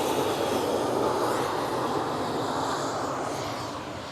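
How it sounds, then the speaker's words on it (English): A KLM Cityhopper Embraer E190 jet takes off at Amsterdam Schiphol, giving a steady, loud broadband engine roar that holds for a few seconds and then begins to fade slightly as it pulls away. "We just had a takeoff."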